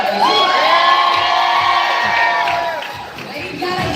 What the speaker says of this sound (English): Cheer 'em on, guys.